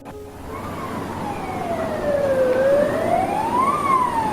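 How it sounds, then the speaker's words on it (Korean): Loud emergency siren sounding alone, a single wailing tone that slowly falls, then rises again over steady background rumble, growing a little louder toward the end. "요란한 사이렌 소리가 들려왔다."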